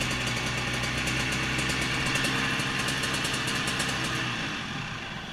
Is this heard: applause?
no